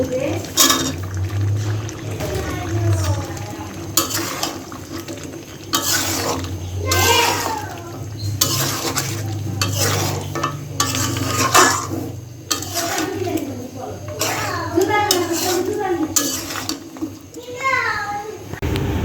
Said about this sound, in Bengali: এখন হলো কেটে রাখা কচু দিয়ে দিব